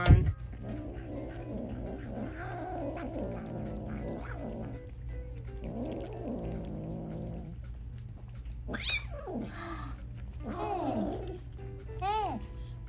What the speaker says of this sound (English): can you even understand what I'm trying to say with all the meowing going on?